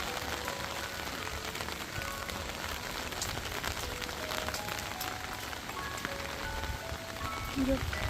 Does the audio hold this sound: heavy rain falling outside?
yes